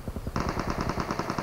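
Rapid automatic gunfire in PUBG Mobile rattles in a fast, even stream of close shots that starts a moment in and runs to the end.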